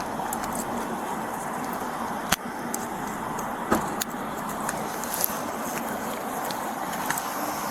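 A parked car's engine runs steadily in a low, even hum, with a few sharp clicks and knocks close by.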